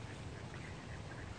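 Ducks at a lake quack, with a dense, steady chorus of calls blending into a continuous murmur over low background noise, rather faint and distant.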